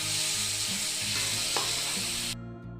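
Loud, continuous sizzling of turmeric and salt frying in hot oil, close by, with occasional stirring scrapes before it cuts off near the end.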